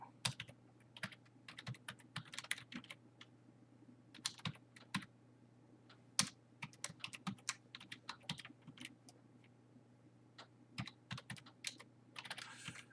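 Rapid typing on a computer keyboard while entering credit card charges into QuickBooks accounting software, with irregular bursts of clicky keystrokes and short pauses over a steady low hum.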